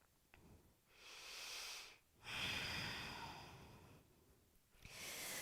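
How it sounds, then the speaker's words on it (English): Slow, deep breaths drawn in and out through the nose during a yoga forward fold, three long audible exhales with short pauses between, close and quiet. "take 2 more breaths"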